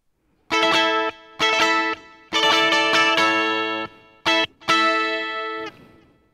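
Electric guitar with an Ibanez-style LA-240KK body, flamed maple top and EMG pickups played through a BOSS GT-1 with delay, ringing chords in several loud bursts with echoing repeats trailing off at the end.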